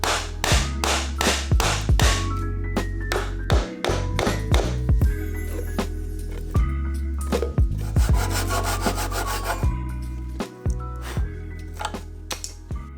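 Chisel cutting into wood for Japanese joinery, a loud run of sharp strikes and scraping pares in an uneven rhythm, close up and alone with no voices.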